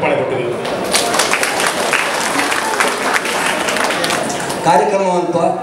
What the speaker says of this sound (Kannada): ಓಕೆ, ಕೊಡೋಣ ಚಪ್ಪಾಳೆ ಕೊಟ್ಟುಗ.